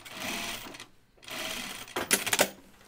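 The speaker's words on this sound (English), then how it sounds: "I'm going to stitch around the neckline right now inside my seam allowance" A sewing machine stitching around the neckline of a Kelly anorak jacket in two close, steady runs of rapid mechanical whirring separated by a short pause.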